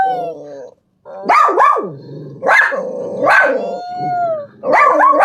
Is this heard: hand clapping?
no